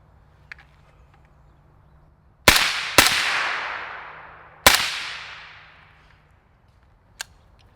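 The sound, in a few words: gunshots from a Black Anchor Tactical Nautilus 556 rifle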